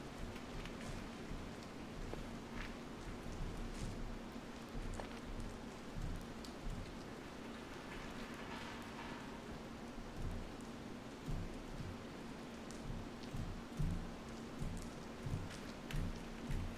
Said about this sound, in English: Listen to like the water sound effect here.